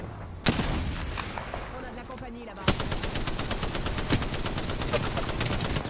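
Automatic gunfire in the Apex Legends shooter: one sharp shot, then after a short gap a long, rapid, evenly spaced burst that carries on to the end, fairly close and loud, with a voice talking under it.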